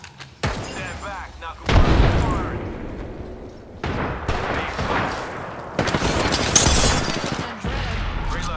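Rapid bursts of shotgun-like knuckle cluster fire in the game Apex Legends, loud repeated booming blasts in several volleys with short gaps between them, mixed with in-game voice lines.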